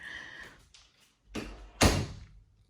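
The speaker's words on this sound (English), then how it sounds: "Let me close this door." Office door swung shut nearby, a whoosh of movement followed by a firm, loud thud as it closes and latches.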